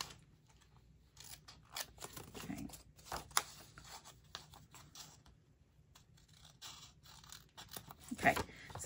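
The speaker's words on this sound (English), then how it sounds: "I got all 4 little tabs cut off" Scissors snipping small paper tabs off handmade album pages, a quiet run of close, irregular clipping snips with brief pauses between cuts, and no one speaking.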